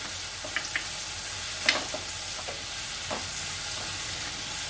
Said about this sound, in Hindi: इसको भी थोड़ा मैं फ्राई कर लूँगी।